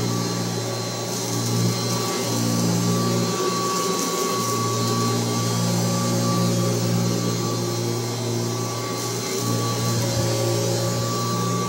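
A Kirby Heritage 2 upright vacuum cleaner runs steadily at close range, its loud motor whine holding an even pitch throughout with a constant high hiss from the airflow.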